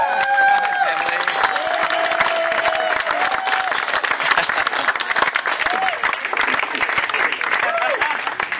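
A festival crowd applauds a family at a Renaissance festival show, dense steady clapping with some cheering throughout, loud and close, while a voice talks over it.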